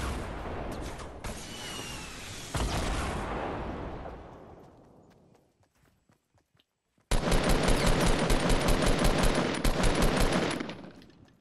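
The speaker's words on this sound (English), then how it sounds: "Oh, I'm getting shot from behind." Automatic gunfire in an online shooter video game, heavy sustained bursts that fade into a near-silent gap before a dense, rapid stream of loud shots resumes close by.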